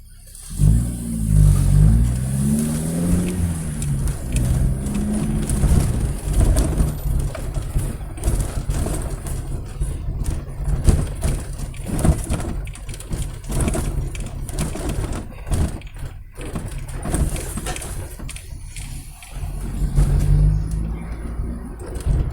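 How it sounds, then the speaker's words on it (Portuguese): A car engine running on adulterated fuel with MegaSquirt injection revs and falls back repeatedly as the accelerator is blipped. A loud, close, continuous rumble rises in surges. "Você dá uma cutucada no acelerador,"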